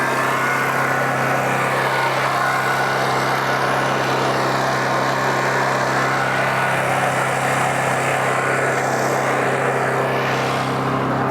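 A gas-powered engine beside a van, exhaust pointed away, drones steadily at a constant pitch, loud and unbroken, with no voices.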